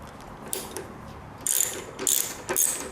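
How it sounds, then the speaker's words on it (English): A ratchet with a 5mm Allen bit clicks away at the single rear seat bolt on a Honda VTX 1300R motorcycle, giving several short, close bursts of rapid metallic ratcheting. "removing the back seat, and we just have one bolt there, which takes a 5mm Allen wrench"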